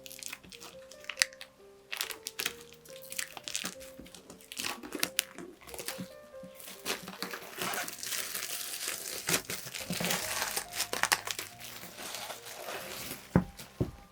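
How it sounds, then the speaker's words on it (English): Plastic wrap being peeled off a Berserk deluxe manga volume, close crinkling and crumpling in irregular bursts that grow busier and louder toward the end. "I'm going to unwrap this"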